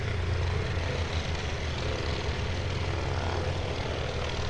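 A steady, loud propeller-engine drone from an Ercoupe 415-C in the X-Plane flight simulator runs without a break, with no voices over it.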